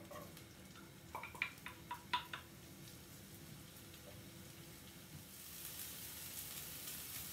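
Spring onions fry in a little oil in a pan, a soft steady sizzle with a few sharp crackles and stirring taps early on, swelling into a broader hiss toward the end.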